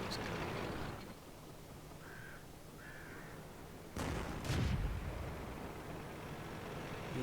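Tank cannon fire during a World of Tanks battle: a single sharp shot followed by a deep booming impact, fairly distant and moderate in level over a steady engine-like hum.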